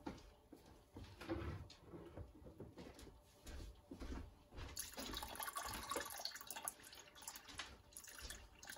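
Water runs steadily beside a home still making triple-infused peach brandy, a continuous splashing wash with knocks and clatter over it that grows brighter and busier in the second half.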